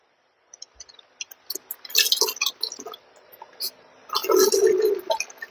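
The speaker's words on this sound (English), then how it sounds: "I'm just going to pour the whole basket in there instead of put the basket" Raw peanuts tipped from a basket into a pot of water, giving a wet clattering splash with drips and sloshing, rising in two bursts, close and moderately loud with no talk.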